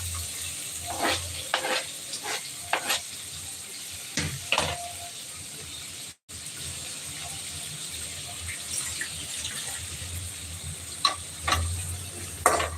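Tomatoes stirred and fried with softened onions in a pan for a squid dish: a close steady sizzle with frequent spatula scrapes and clacks, briefly cut off midway.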